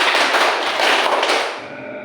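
Class of students doing counted group clapping: a run of loud, reverberant claps blurring together as the children fall slightly out of sync, then dying away into the room echo.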